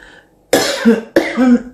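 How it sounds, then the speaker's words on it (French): Two sharp, close coughs from one person, each a loud burst with a rough trailing rasp, after a short quiet moment. "Excusez-moi, je vais tousser 2 secondes."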